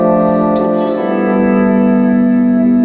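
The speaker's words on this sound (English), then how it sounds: "the swell sound with the volume expression pedal" Electric guitar volume swells shaped with an expression pedal through a Boss MS-3 delay, sustained chorused and distorted tones fading in and blooming with echo and reverb, continuous and fairly loud with no talking.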